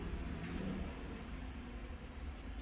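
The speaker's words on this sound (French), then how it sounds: "Camion qui passe, camion qui passe." A truck passes outside a room, heard as a faint, low, steady rumble of road traffic that swells slightly and fades, distant and muffled indoors, with no speech.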